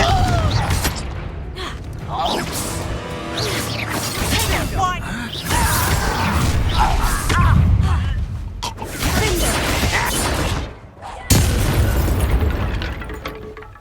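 Confringo fire-blast spell explosions in the video game Hogwarts Legacy, a busy stretch of booms, bursts and whooshes from spellcasting combat, loud and repeated with short pauses, with a voice speaking between the blasts.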